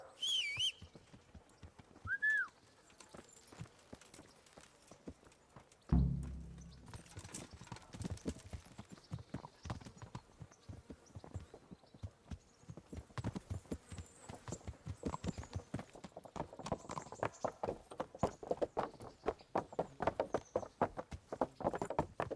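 Horses' hooves clip-clopping on a path in the medieval video game Kingdom Come Deliverance, a steady walking rhythm that grows denser and louder over time, with a brief whistle and a snort early on.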